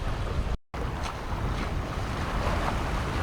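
Sailboat under way at sea at about 7.6 knots, towing a dinghy with tanks full, with steady rushing water and wind buffeting the microphone throughout, briefly cutting out near the start.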